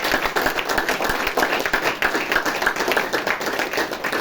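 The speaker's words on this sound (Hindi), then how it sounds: "तो इस महान विभूति के लिए जोरदार तालियां होनी चाहिए" An audience at a spiritual gathering claps loudly and continuously, a dense close patter of many hands sustained throughout without voices.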